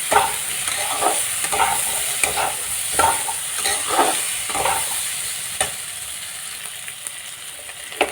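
Whole green chillies sizzle steadily in a hot pan of oil, with repeated scraping stirs over the constant frying hiss, heard close up with no talking.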